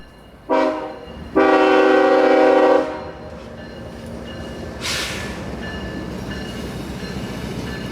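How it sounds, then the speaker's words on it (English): Freight train led by two GE locomotives rounding the south leg of a rail wye, with loud horn blasts, a short one then a longer sustained one, followed by a brief high screech over steady rumbling rolling noise. "we then see them rounding the south leg of Edison Y with their 2 GE locos headed for New Wales"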